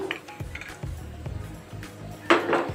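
A pan set down on a stove and oil poured in while starting a taro curry: a few light metallic clinks and knocks, then a brighter, louder rush near the end, close by.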